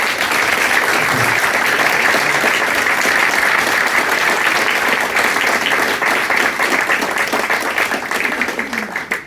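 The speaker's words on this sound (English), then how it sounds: "So I'd like you all to give us a big round of applause," Loud sustained applause from an event audience after a talk, dense continuous clapping filling the whole stretch and tapering slightly at the end.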